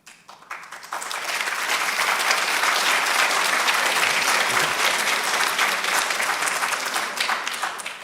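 A university audience in Tel Aviv breaks into sustained applause, a dense wash of clapping that swells within the first second and holds loud and steady, tapering slightly at the end.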